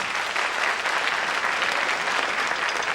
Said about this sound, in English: Applaud if you've never been to one of these things.